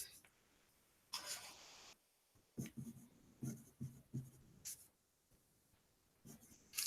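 A pen writes geometry notes close to the mic in short scratchy bursts that come several times, separated by quiet pauses.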